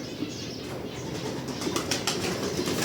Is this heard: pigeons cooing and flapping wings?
yes